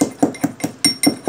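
Four cloves and five black peppercorns are crushed with about six sharp, evenly spaced pounding knocks, loud and close, each a short hard thud with a brief ring, and no voices.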